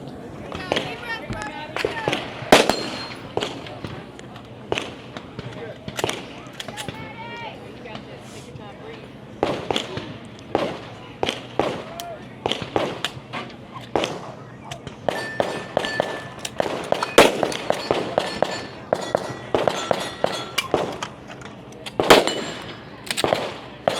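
Repeated sharp gunshots and metallic clangs ring out on a women's tactical shooting competition stage with rifle fire at steel targets about 50 yards away, irregular bursts mixed with ongoing talking.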